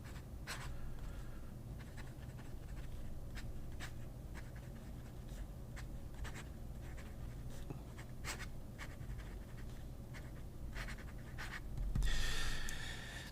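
A pen scratches across paper in a quiet room, with soft, irregular strokes and small ticks repeating throughout, and a brief louder rustle near the end.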